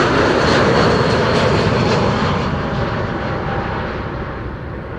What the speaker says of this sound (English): This is Finnair flight 1301 A321 arriving from bloody Helsinki.